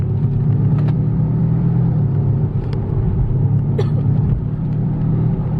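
A BMW 320d tuned to imitate a V8 gives a deep, steady exhaust rumble, loud and close with only slight swells in pitch while driving.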